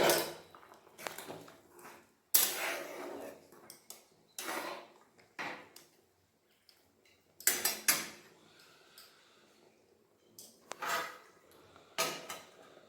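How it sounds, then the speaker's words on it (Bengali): A cooking pot of goat head meat curry gets a series of sharp metallic clanks and rattles from its lid and utensils, in bursts with quiet pauses between them. "এরপর এটাকে ঢাকা দিয়ে দেবো"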